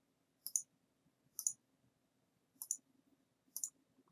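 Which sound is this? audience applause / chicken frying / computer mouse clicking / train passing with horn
computer mouse clicking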